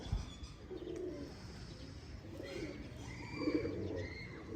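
Pigeons kept as breeding pairs coo softly in a few low, rounded bursts over faint background noise, the calls coming at a distance with no voices over them.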